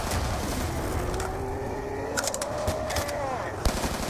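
Rapid gunfire in a zombies survival video game set at a bus depot, a dense stream of shots with a louder crack near the end, over steady game background noise.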